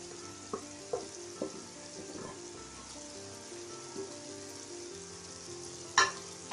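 Chicken curry frying with dry coconut powder, a faint steady sizzle broken by several light spoon taps and scrapes, ending in one sharper clank near the close.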